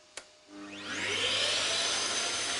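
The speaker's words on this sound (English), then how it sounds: "Okay, well now we can turn on the vacuum." A shop vacuum feeding a CNC vacuum table switches on with a sharp click, then spools up over about a second into a loud, steady full-power roar that holds to the end.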